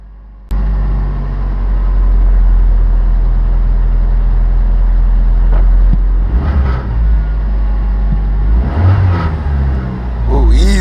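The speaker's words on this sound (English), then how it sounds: "No more battery light, and the car is back to life." A 2000 Saturn SL1's engine starts abruptly and settles into a loud, steady idle, then rises in a couple of brief throttle revs near the end, with a voice speaking briefly over it.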